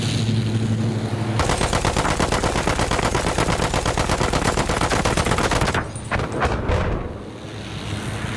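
Dense, rapid machine-gun fire in a Battlefield 1 World War I battlefield, a loud sustained rattle of overlapping shots lasting several seconds before cutting off into a few scattered bursts and rumbling ambience.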